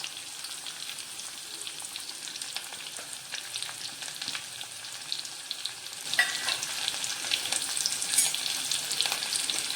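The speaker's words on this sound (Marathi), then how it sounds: "हे चांगलं तेलामध्ये भाजून घेऊया" Garlic, cumin seeds and chilies frying in hot oil for a fenugreek leaf dish, a steady close crackling sizzle that grows a little louder partway through, with no talk.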